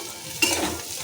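Taro and potato pieces fry in a pan, a steady sizzle with one sharp utensil scrape against the metal partway through.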